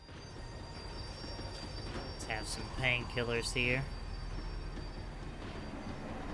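A tram in Max Payne 3 rumbles along and slows, a steady low mechanical hum and rail noise running throughout, with a voice speaking briefly over it midway.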